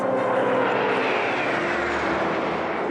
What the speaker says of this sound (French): Des avions à moins de 200 mètres de la foule, contre 300 habituellement.